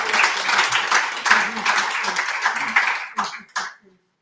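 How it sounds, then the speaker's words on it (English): A conference audience at a co-operatives and fishing industry breakfast summit claps warmly for a presentation, a dense burst that thins into scattered final claps and stops abruptly. "Can we quickly give a round of applause for Mr."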